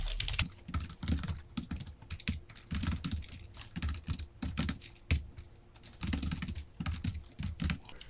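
Rapid clicking of keys as text is typed on a computer keyboard, in irregular bursts with short pauses, close and fairly quiet, with no talking.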